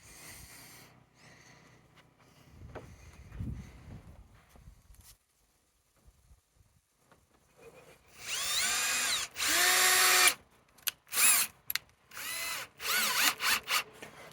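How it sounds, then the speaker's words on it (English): A power drill drives screws into wood in several short bursts, revving up and stopping repeatedly, close by, with quieter tapping and handling before it. "I'm going to try to sink the screws in so I can use a drill bit later"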